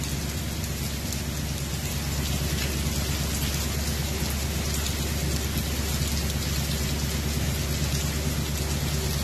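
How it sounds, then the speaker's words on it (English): Hail and heavy rain pelt down in a dense, constant hiss and patter on surfaces at a camp in Cold Springs, with a low rumble underneath and no voices. "We've got hail. Just to make it even more fun."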